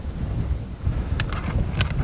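Gusty outdoor wind buffeting a microphone during a landscape photography shoot, a steady low rumble with uneven swells and a few brief higher rustles, close and continuous.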